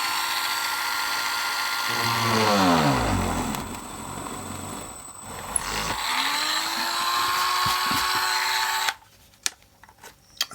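A small drill bores into a thin etched metal coupling rod for a DJH 2MT 2-6-0 model locomotive, its motor whining and pitching down and up under load, then stopping abruptly with faint clicks and handling noises afterward.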